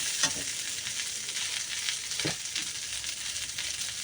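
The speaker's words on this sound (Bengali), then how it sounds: "এবার সুন্দর করে ভেজে নেব" Bata fish sizzles in a pan of hot oil, a constant close hiss with a couple of brief scraping stirs, moderately loud and with no one talking.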